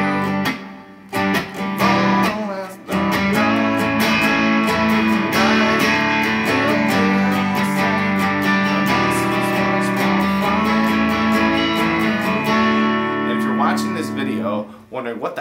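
Guitar strumming the verse chords of a song, a steady, full-sounding chord progression that runs without a break from start to finish, close and fairly loud, with no voices over it.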